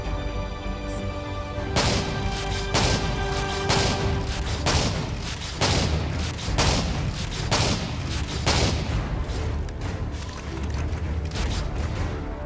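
SPAS-12 pump-action shotgun firing in Call of Duty: Modern Warfare 3 multiplayer, with loud booming blasts roughly once a second, each followed by mechanical pump clatter, repeated in a steady rhythm.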